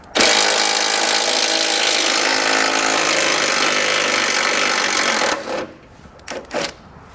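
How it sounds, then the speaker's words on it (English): A power tool with a 15mm socket backing out stabilizer bar bolts on a 2018 GMC Sierra 1500, a loud continuous whirring burst lasting about five seconds, then cutting off into a few brief clanks. "We're going to use a 15mm socket to remove it."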